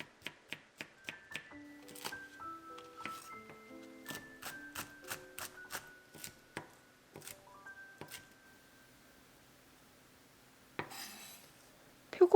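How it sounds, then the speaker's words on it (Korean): A knife slices a green onion stalk on a cutting board for a mushroom rice bowl, a quick run of sharp, evenly spaced taps, close and clear, with a pause and a few more chops near the end. "대파 한 대 송송송 썰어주세요."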